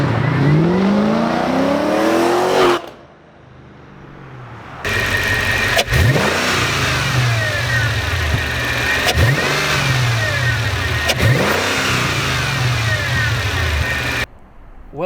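Outside a Mercedes E55 AMG, the supercharged engine is revved repeatedly: a rising blip, a pause, then a series of sharp revs with supercharger whine that rise and fall back to idle, loud and close.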